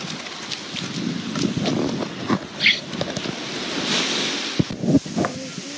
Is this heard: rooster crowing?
no